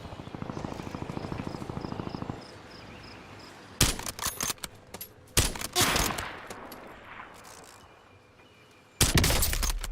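Sniper gunfire from a solo sniper match of Call of Duty Warzone in Verdansk, heard as several sharp, loud shots with echoing tails, the first after a stretch of chirping crickets in the ambience and the last firing near the end.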